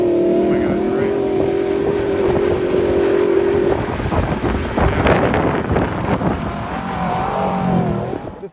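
A 2023 Ford F-150 Raptor R's 700-horsepower supercharged 5.2-liter V8 on the Silver Lake dunes holds a steady, whining drone, then turns rougher and more uneven as the revs rise and fall, with wind buffeting throughout.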